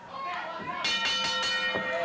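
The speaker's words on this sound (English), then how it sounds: "There's the bell" A wrestling ring bell at a St. Louis wrestling match clangs in a quick run of about four rapid strikes, ringing out over crowd noise and a commentator's talk.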